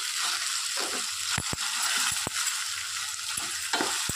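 Brinjals frying with onion masala paste give a steady, close sizzle, punctuated by a few sharp clicks and scrapes of a utensil against the pan, with no voices.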